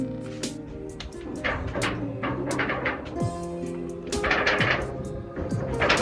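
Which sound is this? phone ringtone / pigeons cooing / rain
pigeons cooing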